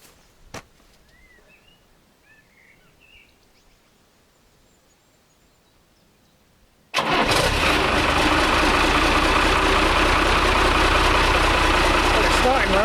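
After a long quiet stretch, a project vehicle's engine suddenly fires up and settles into a loud, steady idle close by, the rumble continuing unbroken to the end.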